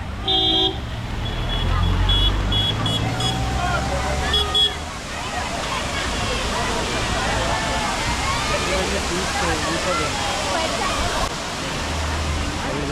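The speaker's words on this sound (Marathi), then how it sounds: "पुढे आणखी एक धबधबा आहे" Steady broadband rushing of a waterfall at Matheran hill station, India, fills the scene, with a few brief car horn toots and people talking faintly early on.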